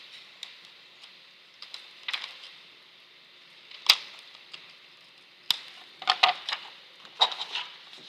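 Scissors cutting out a paper shape, with sparse, crisp snips and clicks coming in irregular clusters, close by and fairly quiet.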